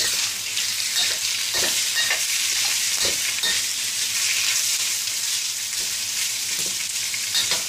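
Garlic shrimp fry in a wok with a bright, constant sizzle, broken by intermittent clacks and scrapes as they are tossed and stirred around the pan.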